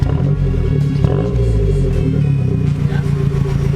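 A warmed-up Mazdaspeed 3 with an HKS exhaust idles and revs, a deep throaty rumble with low droning tones rising briefly, close and loud, while people talk over it.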